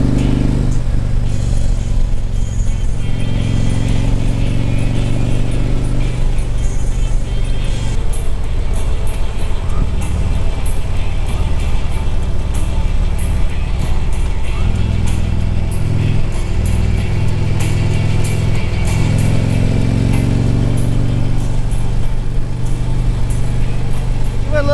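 Harley-Davidson Dyna and Street Glide motorcycles ride through winding curves, a loud steady engine drone with rising and falling revs as they lean through the bends, wind buffeting over it.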